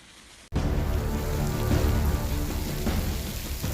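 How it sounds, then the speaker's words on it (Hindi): Heavy rain pours down in Delhi, a dense, loud, steady hiss of drops hitting surfaces that starts abruptly and then continues unbroken, with no voices. "दिल्ली वालों की संडे की सुबह तेज बारिश के साथ हुई।"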